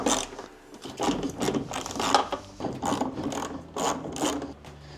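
Ratchet wrench loosening 8mm bolts on a Ford F-150 tailgate light install, with a busy run of clicking and metallic mechanism noise that stays fairly close and steady throughout.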